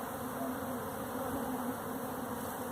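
A large honey bee swarm hums steadily at a purple hive box while bees fan at the entrance, a dense, continuous buzz that stays level and close throughout with no voices.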